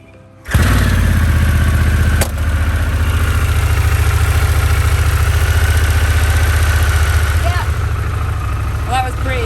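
A Harley-Davidson Pan America motorcycle engine starts abruptly and runs loud and steady at idle while the bike sits on its centre stand outdoors in wet, chilly Wales, with a brief sharp knock early on.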